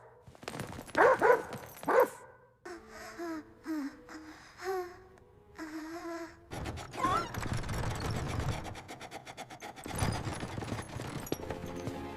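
A dog barks and yips in uneven bursts, with whimpering pitches between, close by and fairly loud against some background noise.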